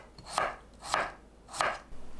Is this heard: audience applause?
no